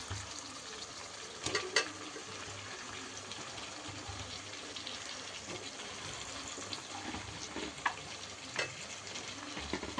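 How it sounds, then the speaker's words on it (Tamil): Tomatoes and onions sautéing in a pan for chicken gravy give a steady, close sizzle and frying crackle, with a few sharper stirring clatters scattered through. "நல்லா வதக்கிட்டு இதில் வந்து இப்போது தக்காளி சேர்க்க போகிறேன்"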